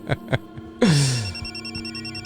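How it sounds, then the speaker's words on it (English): A telephone rings as an added sound effect in a short film, two short rings followed by a loud, sustained electronic ringing tone with a falling swoop at its onset, heard alone and close. "The phone, of course, that you hear ringing is"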